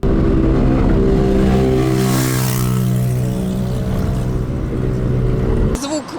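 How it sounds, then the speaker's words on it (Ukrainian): Several motorcycles race at speed across the Central Bridge in Dnipro toward the left bank, with loud continuous engine roar and revving throughout and a sudden change near the end. "Центральний міст на швидкості байкери їдуть у бік лівого берега."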